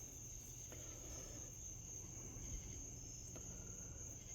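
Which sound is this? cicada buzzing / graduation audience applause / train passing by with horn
cicada buzzing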